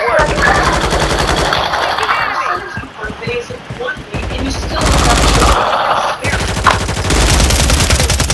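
Heavy automatic gunfire from a Call of Duty match, with rapid rattling bursts that stop and start several times, louder near the end. A voice talks over the shooting.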